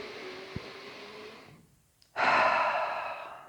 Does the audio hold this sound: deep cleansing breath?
yes